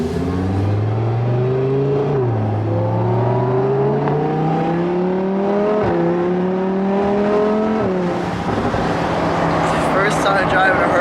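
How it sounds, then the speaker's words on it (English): Lamborghini Huracan Evo with a VR aftermarket exhaust driving slowly, its engine note rising and falling through several gear changes, steady and close throughout. "The VR exhaust sounds super good, I'm not gonna lie."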